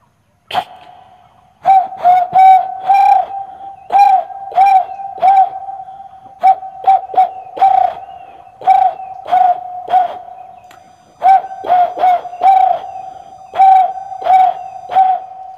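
A man mimics a dove's dawn cooing, voicing repeated soft hooting coos in quick clusters of two to four with short pauses between, close and clear, without speech.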